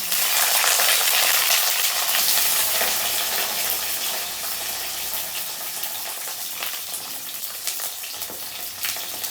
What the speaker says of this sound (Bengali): তেলের মধ্যে বেগুন দিয়ে দিলাম